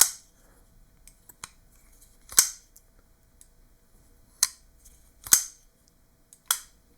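A McNees Dixon folding knife snaps open several times with sharp, isolated clicks, some doubled by a detent ramp, close and crisp against a quiet background with no talk.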